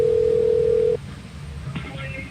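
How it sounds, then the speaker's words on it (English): A telephone line sounds on an outgoing call: a steady tone holds for about a second, then cuts off, leaving a quieter line with faint clicks and a brief higher tone near the end. "As the phone's ringing."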